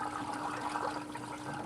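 Water draining through a bell siphon in an aquaponics grow bed, a steady, even gurgling rush with a faint hum underneath, continuous and moderately quiet with no voices.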